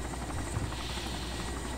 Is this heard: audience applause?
no